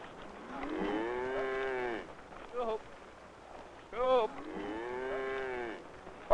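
Cattle moo on a misty farm: a few long, drawn-out lowing calls and shorter bellows, moderately distant against a quiet background.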